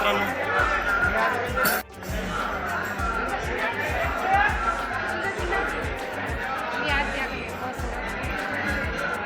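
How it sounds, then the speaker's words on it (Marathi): A dense crowd of devotees at the Renuka fort temple at Mahur during the Panchkoshi pilgrimage: a constant murmur of many voices with nearby chatter and footsteps, loud and close throughout. "बघू शकता भाविकाची खूप गर्दी आहे छान गर्दी आहे"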